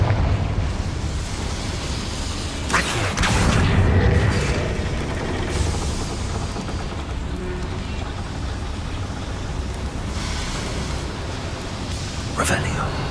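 Confringo fire spell blasts go off in Hogwarts Legacy inside a machinery-filled area with boilers, a sharp crack near three seconds swelling into a booming rumble, then another short burst near the end, all over a constant mechanical drone.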